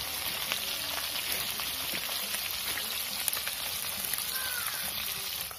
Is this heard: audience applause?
no